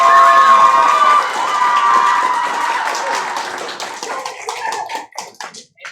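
Audience at an improvised murder-mystery theatre show clapping and cheering loudly for a vote, a dense burst of applause and whoops that starts strong and gradually thins out into scattered claps.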